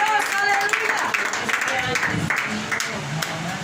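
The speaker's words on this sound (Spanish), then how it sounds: "Dale un fuerte aplauso al Señor" A church congregation claps together in a loud, sustained burst of applause, dense and steady throughout, with voices mixed in among the clapping.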